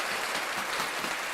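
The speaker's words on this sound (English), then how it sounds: "This applause is for you." Steady applause of clapping hands for a stream audience, dense and even throughout, fairly soft, with no voices over it.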